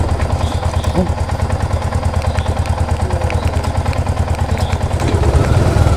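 A scooter-style motorcycle idles close by just after starting, with a loud, rapid, even putter and a slight rise near the end. A voice speaks briefly over it.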